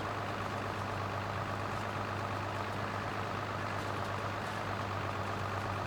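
Tractor engine running steadily during hay baling, a continuous low droning rumble with a constant hum, close and loud with no breaks or talking.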